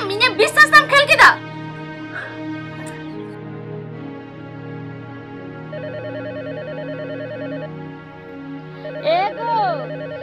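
A bright electronic phone ringtone plays a repeating melodic pattern, loud and close, with a short burst of sound at the start and more near the end.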